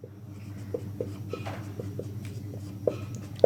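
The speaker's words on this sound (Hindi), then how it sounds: "यहां पर लिख भी दे रहा हूं" A teacher writes on a board during a maths lesson, making a series of short tapping and scratching strokes at an uneven pace, close and fairly clear, with a couple of sharper knocks near the end.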